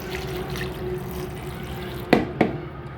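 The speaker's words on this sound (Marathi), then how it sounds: "याच्यामध्ये 2 ग्लास पाणी टाकते आहे मी" Steady rushing of two glasses of water poured into a pot of chillies, tomato and coriander for dal bhaji, continuous and close, with two brief clinks near the end.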